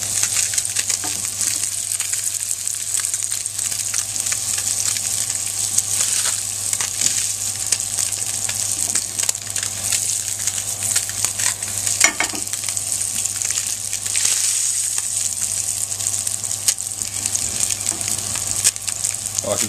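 A seabass fillet fries in a pan with a steady, loud, close crackling sizzle that holds evenly for about twenty seconds, with small spits and pops throughout.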